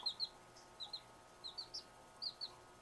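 Soft, high-pitched cheeping from little chicks repeats in short paired and triple bursts, fairly faint over a low, constant hum.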